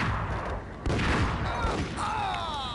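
Gunfire in the video game Max Payne comes as a dense, booming burst of shots with loud, rolling blasts and a few sharper cracks, bunched close together.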